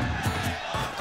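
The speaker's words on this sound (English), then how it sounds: "We got a Trevante chant in the crowd" Crowd at a Super Smash Bros. Wii U crew battle tournament, Japan versus NorCal, chanting a player's name in rhythmic surges, a dense roar of many voices rising and falling in pulses.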